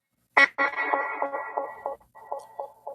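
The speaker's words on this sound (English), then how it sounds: "and an analog delay." A plucked guitar note through an analog delay effect rings out, then repeats in a series of softer, warmer echoes that fade and blur slightly as they trail off.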